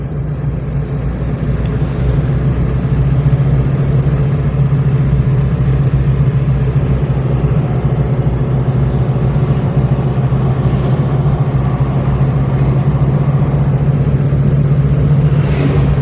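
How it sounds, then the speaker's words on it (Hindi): A manual car engine in third gear hums steadily and builds gradually as it gathers speed, a constant close drone with a faint rise in pitch and no talk. "क्लच दबा के थर्ड मारो आगे, छोड़ो क्लच, आराम से बढ़ाओ स्पीड"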